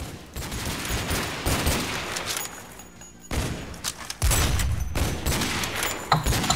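Dense bursts of rapid gunfire fill a Minecraft PvP match played with the Flans weapons mod, loud volleys crackling almost continuously, with a short lull before heavier shooting resumes.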